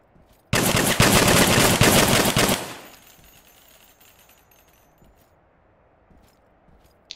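A single sustained burst of automatic gunshots from the video game Burkina Faso: Radical Insurgency, loud and close for about two seconds, then fading into near silence with faint clicks.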